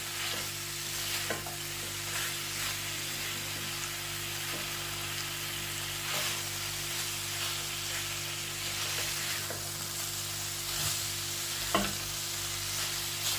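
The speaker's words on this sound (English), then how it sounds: "So we are mixing it as we cook for just 2 minutes" Chicken and peppers fry in a pan with a steady, continuous sizzle while being stirred, with occasional soft utensil scrapes throughout; no talking.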